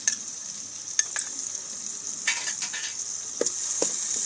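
Chopped green onion and green garlic stirred into a hot pan for a smoky vegetable bhadthu, soft sizzling under sparse spatula scrapes and taps, close and fairly quiet, with no talk.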